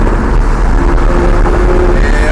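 A Lamborghini Gallardo accelerates on the ICAR racing circuit, its engine a loud, steady, dense roar heard from close up the whole time, with no break or pause.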